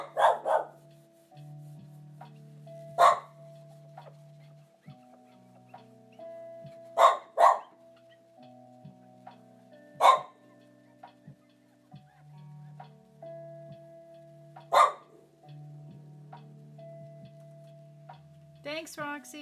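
Roxy, a pet dog, barks at a neighbor from inside the house, repeating single and paired barks every few seconds, loud and close, with a person speaking quietly in between.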